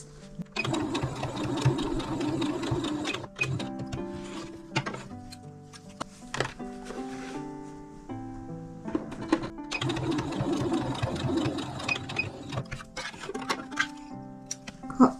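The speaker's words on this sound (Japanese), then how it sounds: "ここ3ミリのとこを仮縫いしておきます。" A sewing machine bastes stitches along a small pouch. It runs in two long, close, steady bursts of rapid whirring, broken by short pauses and a few isolated clicks.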